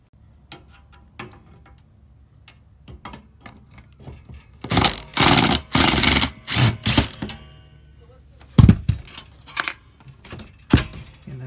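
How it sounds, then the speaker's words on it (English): Screws are pulled from the base of a travel trailer RV couch: light clicks and ticks, then bursts of a power driver whirring several times, with metallic rattles and a knock between. "there just might be two on each side, so I'm gonna go ahead and pull those out"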